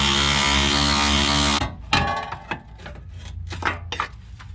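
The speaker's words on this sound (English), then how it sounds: "we'll pop that little shield off" Clanking and clicking of a small metal fuel filter shield being pried off underneath a 2002-2010 Ford Explorer, following a loud steady mechanical whir that cuts off abruptly, then sharp irregular close knocks and rattles.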